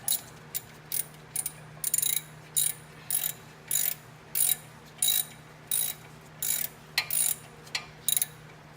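A ratchet wrench works on the brakes of a Land Rover Discovery 2 in a run of sharp, regular clicking bursts, about sixteen of them, close and clear, with no one talking.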